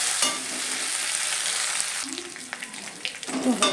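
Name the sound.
onions with ginger-garlic paste frying and being stirred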